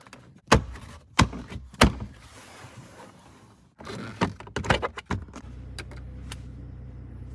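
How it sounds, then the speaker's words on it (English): Several sharp thunks of a Ford F-150 door opening and shutting, spaced apart, then a cluster of clicks and clunks before a low engine hum starts. "Engine cycle off, door open, close door, turn on engine."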